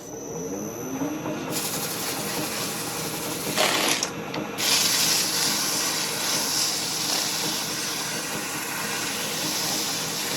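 Steady broadband rasping and hissing of metal on a bike lift being cleaned up before welding, likely with a power tool, loud and continuous throughout with brief surges in the middle.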